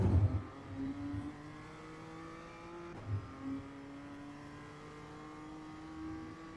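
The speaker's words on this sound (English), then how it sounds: "Feathering that throttle, looking to try and get on full power as soon as possible." A BMW M2 CS in the iRacing sim, on the Winton Club circuit, revs up through its gears, the engine tone climbing and resetting at each shift; moderately quiet and steady with a faint hint of tyre noise.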